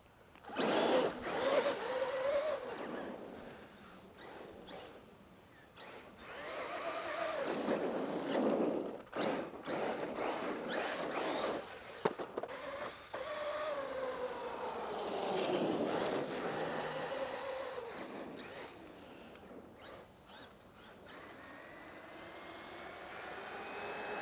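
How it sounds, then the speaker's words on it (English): A Traxxas Maxx V2 RC truck on a 4S battery revs its electric motor, the high whine surging up and down in repeated bursts toward full throttle, with gritty tyre and chassis noise outdoors. "That was about a quarter throttle, and then I hit it full throttle, and it just breaks traction"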